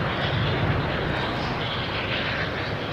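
A JetBlue Airbus A321 jet airliner passes as a steady, loud broadband engine roar, constant throughout with no voices.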